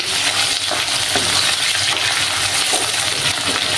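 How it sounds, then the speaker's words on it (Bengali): Chopped onions fry loudly in a pan, with a dense, continuous hiss and crackle broken by a few sharp clinks of stirring. "পেঁয়াজগুলোকে আমি লাল লাল করে ভেজে নেব একটু।"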